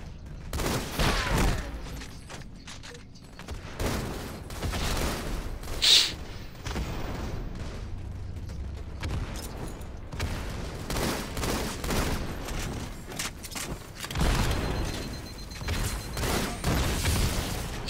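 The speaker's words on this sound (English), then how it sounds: "They're just lobbing grenades randomly." Dense video-game battle with grenades exploding one after another, a sharp blast standing out near the middle amid continuous booming gunfire and rumbling chaos, loud throughout with no speech.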